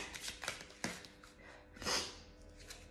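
Oracle cards shuffled and drawn nearby in quick papery riffles and flicks, with a louder burst of shuffling partway through and a quieter rustle at the end, no voices.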